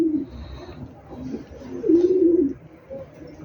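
Baby chicks cry at night after a rat got into their pen, giving soft, low, wavering calls that come in two or three faint bursts over a quiet background.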